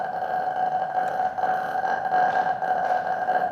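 A human voice imitates the raw buzz of the vocal folds with no vocal-tract shaping, a steady nasal drone held alone for several seconds at even loudness.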